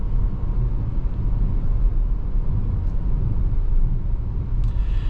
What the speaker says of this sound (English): very good mid-range power with this 2-liter turbo